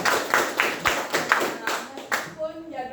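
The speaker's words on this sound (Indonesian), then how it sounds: "Tepuk tangan dulu." Students in a classroom clap together in a rhythmic, patterned beat of about eight claps, fairly close, after which a voice begins speaking.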